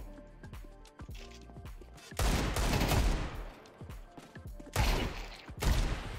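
Gunshots in a shooter video game: loud bursts of automatic fire arriving in heavy clusters, separated by quieter stretches with sparse clicks and mechanical noises.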